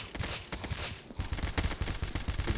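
Rapid bursts of gunfire from a Roblox zombie survival shooter, with dense repeated shots, a brief pause, then a steady run of evenly spaced, loud shots close up.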